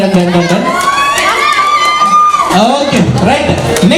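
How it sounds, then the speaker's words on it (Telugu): Guests at a 25th silver jubilee wedding anniversary party cheer and shout loudly as a crowd, with high children's whoops and a sustained cry rising above the continuous noise, close and lively. "ఒకసారి అందరికి గట్టిగా క్లాప్ చేయొచ్చు"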